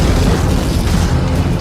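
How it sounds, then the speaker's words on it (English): Sand and water burst out suddenly and powerfully in a tunnel dug deep below sea level, a dense, roaring broadband blast that stays loud and sustained across the whole moment. "powerful explosion of sand and water"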